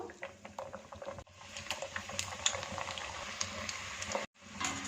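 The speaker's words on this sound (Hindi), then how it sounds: "इसके साथ इन पीसेस को भी फ्राई कर लेते हैं।" Papdi dough pieces frying in oil on low heat give a steady close bubbling sizzle with small crackling pops throughout, briefly dropping out twice.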